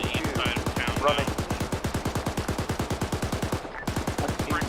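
A Bradley fighting vehicle's gun fires a long, rapid, evenly spaced burst in a military video game. The shots are loud and close and run almost without a break, with brief radio-style voices heard early on.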